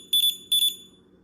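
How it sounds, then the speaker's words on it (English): A dog safety collar gives high electronic beeping in two quick bursts, each a rapid cluster of shrill tones, fairly loud against a faint low hum. "here's the feature right here, the sound, the beeping noise"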